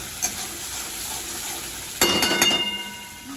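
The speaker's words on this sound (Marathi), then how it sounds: "बघा मस्त मसाला जो आहे तो फ्राय झाला आहे" Masala spice paste for a village-style mutton rassa sits quietly in the pan, then bursts into a loud, crackling sizzle as it is stirred, the hiss slowly fading, with a light clink of utensil early on.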